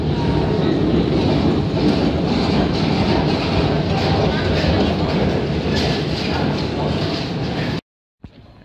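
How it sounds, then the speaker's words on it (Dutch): A train or tram rolls past close by, a loud steady rumble with rhythmic wheel clatter lasting several seconds before cutting off abruptly. "Daar komt zo meteen de trein, denk ik, of de tram"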